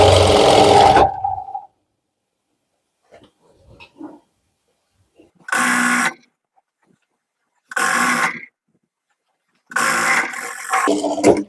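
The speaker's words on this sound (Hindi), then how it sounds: "इस तरह से आपको सिलाई लगा लेनी है।" Sewing machine stitching binding onto the neck of a lined suit, running in three or four short loud bursts separated by silent pauses, with a brief rattle at the start.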